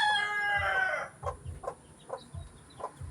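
A chicken clucks and crows loudly at first, then several short, softer clucks follow at steady intervals.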